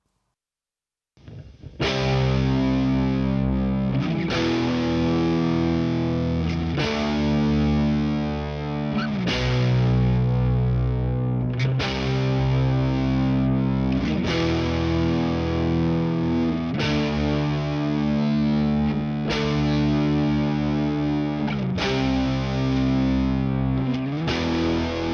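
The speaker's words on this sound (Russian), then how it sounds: "Давайте послушаем, как гитары звучат вместе," Several distorted electric guitars layered together for an epic music piece, recorded but unmixed, playing loud sustained chords that change every couple of seconds for about 25 seconds with no voices.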